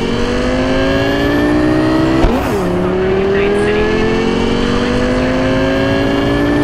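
Car in Cyberpunk 2077 accelerating hard, engine tone climbing steadily in pitch with a brief gear-shift dip midway, loud and continuous, a voice talking faintly over it.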